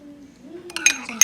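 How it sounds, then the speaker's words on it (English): A yeast mixture of water and sugar stirred in a glass or bowl, with soft clinks of a utensil against the side building toward the end, over a low hum and a faint voice. "So I'm going to mix my yeast mixture all together."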